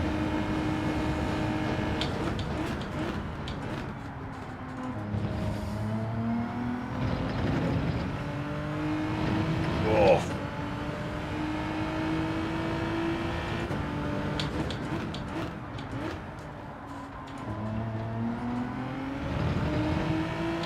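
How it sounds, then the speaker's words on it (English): Race car engine revving during a racing video game time trial, a sustained high whine that climbs and drops through gear changes, steady and prominent for about twenty seconds with no talking. "I just like to rev that out a little bit so that we don't change on an uphill slope."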